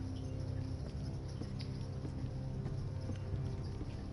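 Continuous horse hoof clip-clops under a steady low rumble, like a horse moving at a walk nearby.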